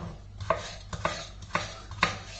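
Potatoes are chopped with a knife on a board, four crisp evenly spaced thuds about half a second apart, close and clear with no talk.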